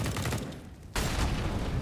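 Rapid Glock pistol fire in Counter-Strike on the Mirage map, a dense, loud volley of shots that briefly drops off before resuming at full intensity.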